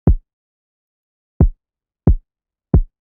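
Four dry, deep thumps from a kick drum sample made on an OP-1 synthesizer, the first alone and the last three in a quicker, evenly spaced run, each short and boomy with nothing else in between.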